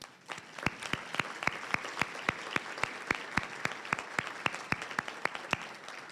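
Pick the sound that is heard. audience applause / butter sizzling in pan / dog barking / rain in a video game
audience applause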